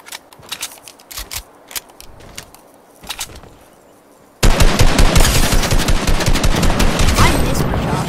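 Gunshots in the video game Fortnite start as scattered, moderately loud single shots, then become a dense, loud stream of rapid fire through the second half.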